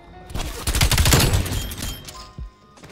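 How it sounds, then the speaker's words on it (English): Gunfire in a video game bursts in a rapid clattering volley of shots that peaks and fades within a couple of seconds, loud and close, with a last single crack near the end. "That was a shot."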